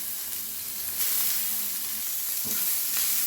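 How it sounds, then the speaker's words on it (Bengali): Ginger and tomato sizzle and fry in hot oil in a pan for a Bengali tengra fish curry, a steady close hiss with occasional louder spatters and a stir, no talk. "ভালোভাবে ভেজে নেব যতক্ষণ কাঁচা গন্ধ না যাচ্ছে।"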